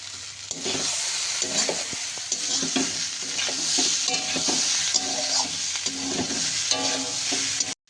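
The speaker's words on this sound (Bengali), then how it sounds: "দেখুন আমাদের সব কিছু ভাজা হয়ে গিয়েছে।" Pointed gourd and prawns with cumin powder sizzle steadily in a hot pan, with repeated scraping and clacking of a spoon stirring throughout, close and continuous.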